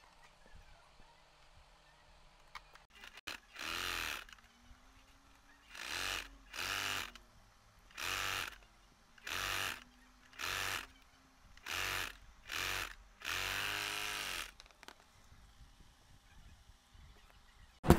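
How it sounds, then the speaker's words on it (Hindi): A sewing machine stitches fabric for a collar-neck top in about nine short, even bursts separated by brief pauses. The machine sounds close but fairly quiet against a near-silent room. "फिर इस तरफ से ऐसे सिलाई लगाएंगे।"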